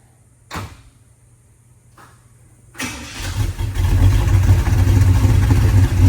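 A 1972 Chevrolet Nova after an alternator belt adjustment: a couple of clicks and thumps, then the engine cranks and fires, settling into a loud steady idle up close.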